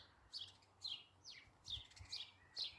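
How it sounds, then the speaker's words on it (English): House sparrows chirp in a garden, a string of short, bright calls repeating every half second or so, fairly faint and close together with no other sound around them. "That's the house sparrows"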